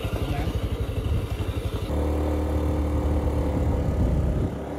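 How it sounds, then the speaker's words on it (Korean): A motorcycle taxi engine runs close by in Chiang Mai, its rough rhythmic pulsing shifting into a steadier, louder drone partway through as the bike rides on. "오토바이 또 불렀습니다."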